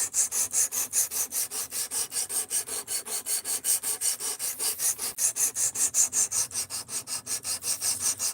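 A blade is sharpened on diamond plates in a steady run of rhythmic rasping strokes, about four per second, close and crisp, with no voices.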